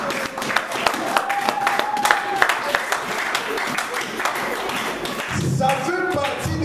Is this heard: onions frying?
no